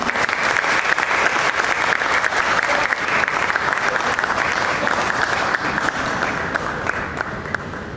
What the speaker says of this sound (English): Please give him a huge round of applause and welcome.